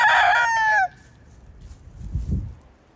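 A rooster in a backyard flock crows once loudly and close at the start, followed by quieter low clucking and shuffling from chickens.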